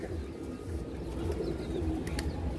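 Madrasi pigeons coo softly in low murmuring tones beneath a steady wash of background noise, with a couple of faint sharp clicks.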